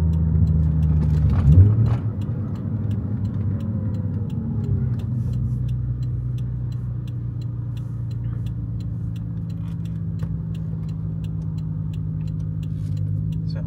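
A Toyota JZX100 Mark II engine idles at about 1000 rpm with the air conditioning on, a steady low rumble held throughout after a brief knock near the start, close up and with no talk.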